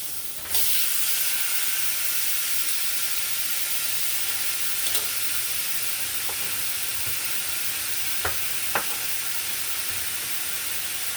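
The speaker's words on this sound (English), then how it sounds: "Let me turn my pork steak over here." A pork shoulder steak sizzling in a pan for Spanish-style tacos, a loud steady hiss that flares up as the meat lands and carries on close and constant with a few faint utensil clicks.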